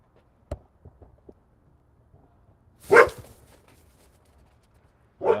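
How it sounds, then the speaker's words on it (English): Dogs bark outdoors during a live stream, a few separate sharp yaps early on and then one louder, fuller bark burst near the middle, with another starting at the end, set against quiet background. "the dogs are going nuts"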